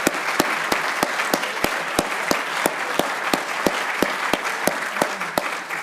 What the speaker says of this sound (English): Please join me in one more round of applause for Paul Maeder and this extraordinary gift.